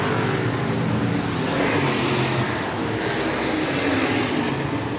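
Stock cars race around the Clay County Speedway track, with engines roaring loudly and steadily under a constant wash of noise for the whole stretch, with no one talking.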